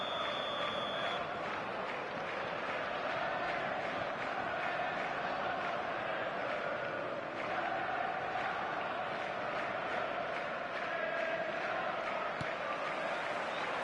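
A stadium crowd roars in the football video game eFootball 2026, a dense, continuous wash of cheering and chanting that stays steady throughout, with a faint hint of a voice early on.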